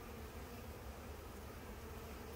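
Steady, dense buzzing of many honey bees working over a hive frame, heard up close and unbroken throughout.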